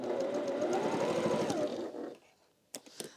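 A sewing machine stitches along the long edge of a quilt triangle, a steady close whirring hum of rapid needle strokes for about two seconds, then stopping, followed by a few small handling clicks.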